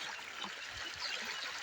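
Floodwater flows and rises across a badly damaged road, giving a steady close-up wash of running water that stays fairly even throughout without any voices.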